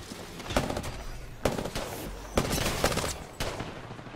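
Gunfire in an online shooter video game on the E-District map: four sharp bursts of rapid shots at roughly one-second intervals, fairly close and loud, with no talk over them.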